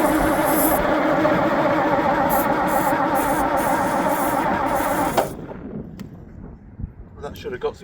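An old armoured car engine under restoration cranks over in a fast, rhythmic churning that runs for about five seconds without catching, then cuts out, leaving quieter background sounds and a few faint knocks.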